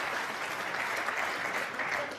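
Snooker crowd at the 2018 World Snooker Championship semi-final between Mark Williams and Barry Hawkins applauding a shot, steady sustained clapping from a large audience throughout.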